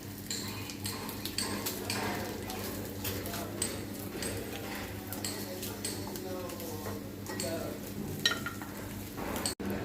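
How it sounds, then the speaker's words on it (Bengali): Dried red chilies fry in hot oil left over from frying chapila sea fish, giving a steady crackling sizzle with a few scraping stirs, alone throughout with faint bird calls in the background. "গরম এই ভাজা তেলে আমি কিছু শুকনো মরিচও ভেজে নেব, মচমচে করে ভেজে নিচ্ছি।"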